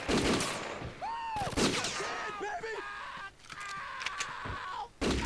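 Gunfire in the crime game Scarface during a shootout with armed gang members: several sharp shots and short bursts mixed with game effects and tonal sounds, with a loud shot at the end.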